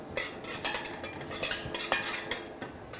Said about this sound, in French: un peu d'huile de noisette, l'équivalent de 3 cuillères à soupe, et on mélange le tout.